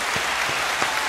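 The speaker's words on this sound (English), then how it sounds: "I just want to see if you guys were going to clap or not." A handful of scattered claps rings out from a small group, sparse and uneven over roughly a second, with no talking.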